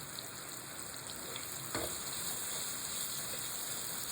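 Pork and sliced chayote sizzle steadily in a hot pan, with a sharp scrape of stirring partway through, close and continuous.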